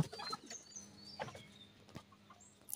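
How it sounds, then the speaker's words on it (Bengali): Chickens cluck quietly in short, scattered calls nearby, with faint chirps and rustling in the background and no talking. "এবার মুরগিগুলোকে ছেড়ে দিচ্ছি"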